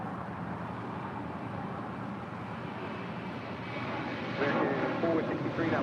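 An American Airlines plane arriving at LAX from Phoenix gives a steady engine roar that grows louder in the last seconds, with people talking over it.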